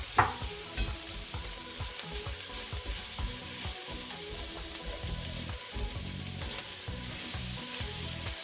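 Ground beef sizzling and frying in a pan with browned onions, a steady close crackle with occasional stirring scrapes, no voices.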